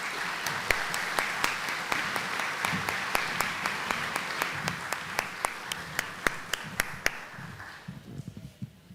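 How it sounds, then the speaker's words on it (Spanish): An audience applauding at an academic theology lecture, sustained dense clapping in a hall with individual sharp claps standing out, fading toward the end. "Un aplauso."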